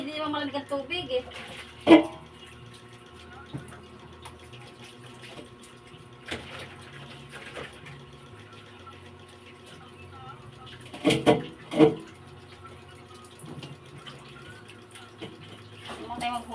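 A tap runs water into a basin while a puppy gets a bath, a thin steady trickle with occasional splashes and knocks, heard under frequent talking and a faint bird call in the background.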